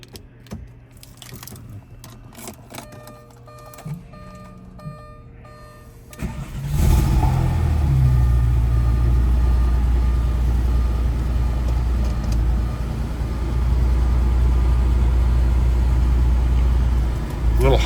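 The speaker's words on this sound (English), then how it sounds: "I'll do a cold start." A Porsche 993 C4S cold-starts after a few seconds of alarm chimes and clicks: the engine catches with a burst, then settles into a loud, steady, slightly high idle that swells again near the end.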